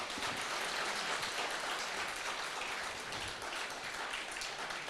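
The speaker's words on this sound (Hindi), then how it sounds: "मैं चाहूंगी आप तालियों के साथ" A conclave audience claps in welcome for the Uttar Pradesh chief minister, a dense, continuous wash of applause at moderate distance, steady for several seconds with no voices over it.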